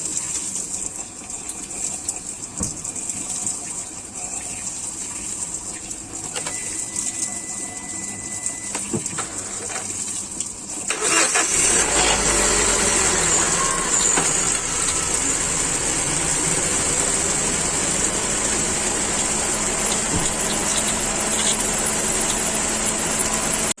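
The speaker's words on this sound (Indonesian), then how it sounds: "kita hidupkan mesinnya supaya air yang di dalam ini bersirkulasi dengan normal" A Wuling Cortez engine cranks and catches about halfway through, then settles into a steady, loud idle with a constant high whine over a low rumble.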